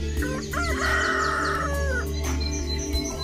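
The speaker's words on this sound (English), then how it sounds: "A rooster." A rooster gives one loud, close crow with a drawn-out middle note, trailed by a few softer clucks, heard on its own without talk.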